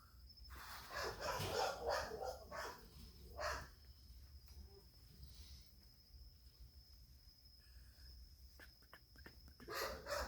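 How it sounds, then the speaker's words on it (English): The neighbours' dogs bark in a cluster of sharp, fairly distant barks, then scattered single barks follow, while crickets chirp steadily in the background. "Dogs next door go ballistic."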